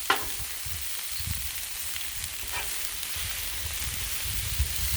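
Garlic frying on a hot flat-top griddle, a steady close sizzle with a faint crackle running throughout and no voices.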